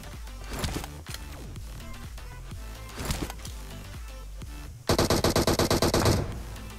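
Rapid bursts of automatic gunfire in the mobile battle-royale game PUBG Mobile, a dense loud rattle near the end following scattered intermittent shots and game sounds.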